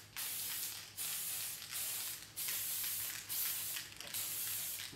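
An aerosol can spray painting light coats onto a clear Lexan RC car shell, five or six close hissing bursts of about half a second to a second each, separated by short pauses.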